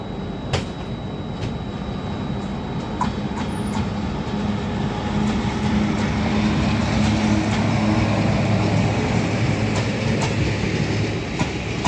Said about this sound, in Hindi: इस पूरे जर्नी में एक ही दिक्कत है ट्रेन की, ये झटके बड़े मारती है ब्रेक चलने के टाइम पे, स्टार्ट होने के टाइम पे।